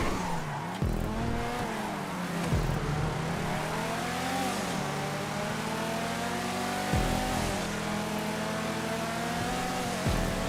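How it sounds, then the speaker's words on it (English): A rallycross drift camper races in GTA 5 with a loud, close engine rising and falling through repeated revs and gear shifts. Tire squeal and skidding mix in as it slides through corners. "Good rallycross car on that drift camper."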